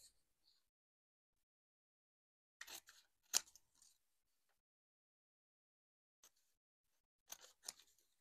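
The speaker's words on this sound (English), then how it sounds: "I'll go ahead and just kind of cut them apart" Scissors cutting apart painted paper flags for a craft layout: a few short crisp snips in small clusters, close and quiet, separated by silence.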